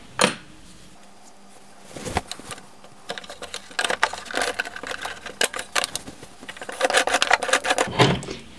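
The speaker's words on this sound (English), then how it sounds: "And I'm also going to start sewing in the back." Home sewing machine stitching the back seam of an oversized raglan top, heard as an irregular run of short mechanical bursts and rubbing fabric, close and moderately loud, starting after a quiet opening second with no talking.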